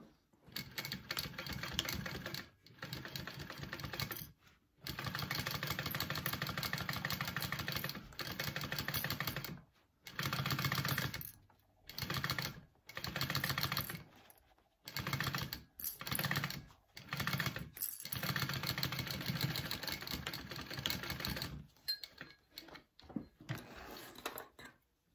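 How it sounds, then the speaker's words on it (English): A sewing machine sews up a folded, clipped pocket in a run of short bursts of stitching separated by brief pauses, close and fairly quiet, with no talking. "And I'm gonna sew that up right here."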